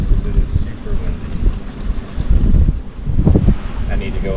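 Strong wind roaring across an outdoor Florida waterway, buffeting the microphone with a steady low rumble and gusty swells throughout.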